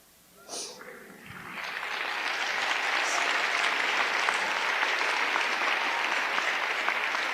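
Audience applause at a live storytelling show in Champaign-Urbana swells after a brief sound and settles into a broad, steady clapping from a large crowd, sustained and moderately loud.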